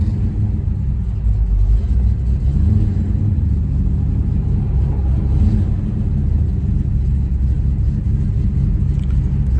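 A 1969 Chevrolet Chevelle SS 396 with a 4-speed rumbles steadily on a test drive, its deep, loud engine drone holding an even tone throughout with no voices.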